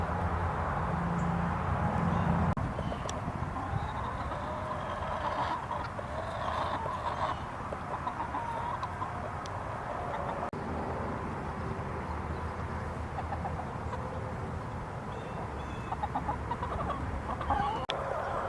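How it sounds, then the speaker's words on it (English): Chickens cluck and murmur with low, growling-like calls over a steady outdoor background, fairly close and continuous. "You know that chickens make really creepy noises?"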